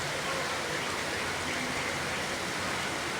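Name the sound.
heavy rain falling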